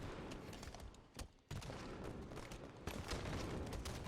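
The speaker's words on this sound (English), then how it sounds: "Those are some nice grenades there, buddy." Grenades explode in a competitive first-person shooter match, heard as dense, continuous gunfire and booming blasts with a sharp burst near the end, loud and busy throughout.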